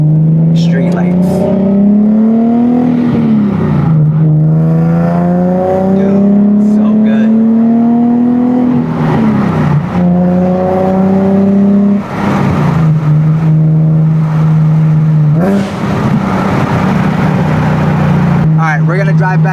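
A Nissan 370Z Nismo pulls away in first gear on a dark residential street, its engine note rising steadily and dipping at gear changes, loud and close throughout.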